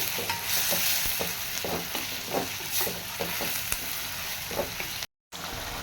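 Onions and tomatoes sautéing with salt in a pan, a steady frying hiss broken by repeated scraping stirs of a spoon, close and moderately loud, with no voices.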